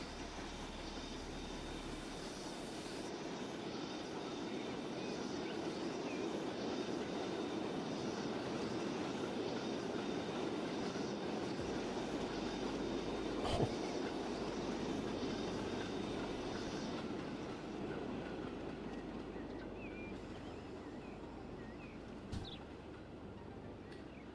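A train runs along a preserved railway in the game Transport Fever 2. It gives a steady, fairly faint rumble of rolling wheels with a few brief clicks and no talk.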